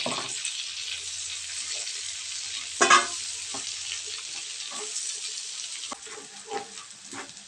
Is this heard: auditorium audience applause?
no